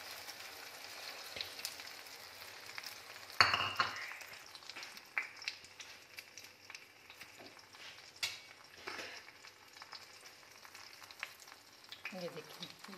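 Eggs sizzle and crackle steadily in a hot pan, with a sharp burst as they hit the oil and a few stirring scrapes later, close and moderately loud with a faint voice near the end.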